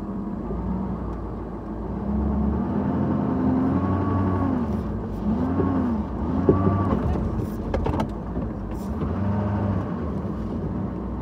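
A vehicle maneuvering slowly to push equipment in a shed with its steer tire, heard as a steady engine rumble and whirring hum that rises and falls slightly, close and continuous.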